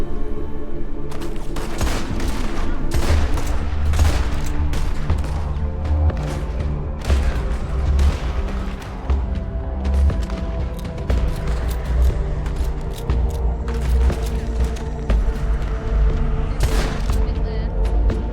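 Dense video game firefight gunfire, rapid overlapping shots and bursts crackling continuously for the whole stretch, loud and close, with occasional booms and someone talking over it.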